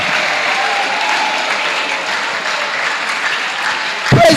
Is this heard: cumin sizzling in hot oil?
no